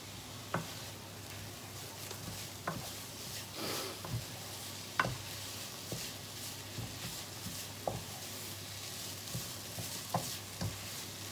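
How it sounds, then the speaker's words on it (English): Food sizzles quietly in a pan with a steady hiss, punctuated by occasional soft pops and clicks of stirring. "Got to keep frying that now."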